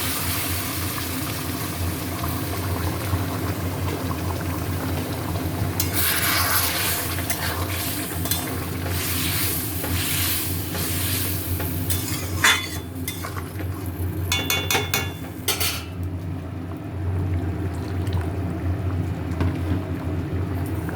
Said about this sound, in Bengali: এবারে দিলাম গরম জল